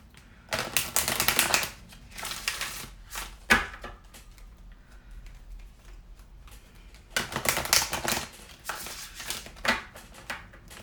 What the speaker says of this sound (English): I'm going to pull you a Romance Oracle by Doreen Virtual to bring the an additional card for this coming week